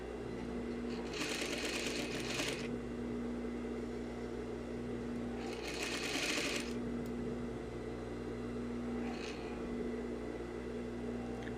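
An electric sewing machine stitches two pieces of bias-cut fabric together in two quick bursts of rapid, buzzing needle strokes over a steady low hum, with a faint tap between them.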